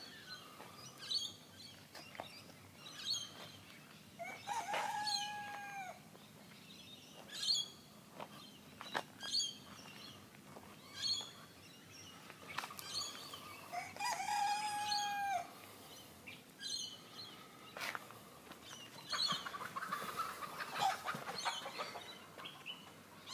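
Chickens and a rooster in a run, with repeated loud crowing and scattered clucks and calls over a steady outdoor background, no talk.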